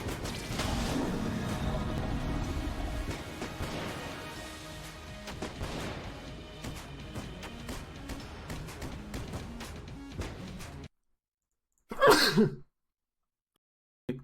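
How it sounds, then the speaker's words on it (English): A single close, sharp sneeze from a player streaming the game Advanced Gungeons and Draguns. Loud game sounds play first, then cut to silence before the brief burst. "I was gonna sneeze"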